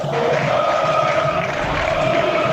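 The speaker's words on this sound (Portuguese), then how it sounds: "É a torcida cantando lá, que delícia." Football fans of Guarani singing together in the stadium during a Paulistão 2023 match against Red Bull, a steady, loud mass of crowd voices holding sustained chant notes with no break.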